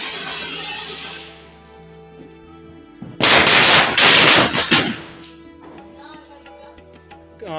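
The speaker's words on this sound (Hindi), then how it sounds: "तो अब आगे की क्लिप जो है वो पटाखों की है, तो आप पटाखे देख सकते हैं।" Firecrackers bursting at a Diwali celebration, a loud cluster of sharp cracks and bangs for a couple of seconds, then quieter background noise with faint distant pops.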